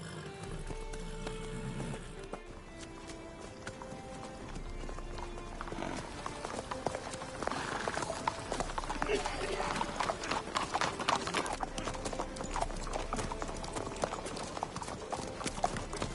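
Horse hooves clip-clopping at a steady trot in The Witcher 3, rhythmic and fairly close, with game music and occasional dialogue beneath.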